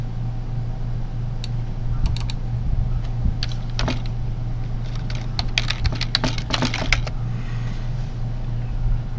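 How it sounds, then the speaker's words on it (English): Typing on a Bluetooth keyboard paired with an Asus Transformer tablet: scattered bursts of close, light key clicks over a steady low electrical hum. "Now let's hit the keyboard up."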